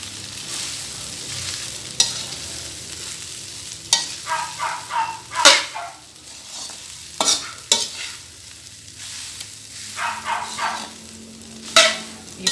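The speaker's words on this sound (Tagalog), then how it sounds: "Haluin lang natin." Fried rice being stirred in a pan: a utensil scrapes and clatters in repeated bursts over a soft, steady sizzle, some strokes sharp and loud, others lighter, with no talking.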